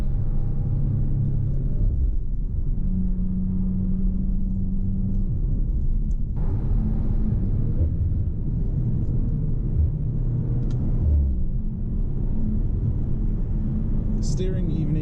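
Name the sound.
Audi RS5 engine while driving in first gear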